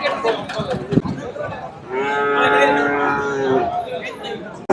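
Cattle mooing at the Kundadam cattle market, one long, loud, close moo over busy crowd chatter and someone talking.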